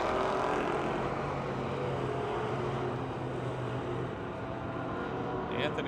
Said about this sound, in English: One of those front 2 cars coming down the straightaway.